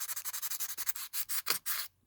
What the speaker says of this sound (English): quite a lot of sanding